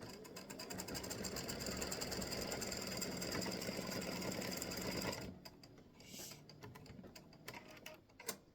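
An embroidery machine rapidly stitches the eyes on a free-standing lace bat earring, a dense, loud, even chatter of needle strokes for about five seconds, then it stops, leaving quieter scattered ticks.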